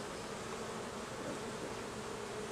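A steady, even insect hum of bees buzzing around a beehive, quiet and continuous without pause, with only a modest number of bees present and no voices.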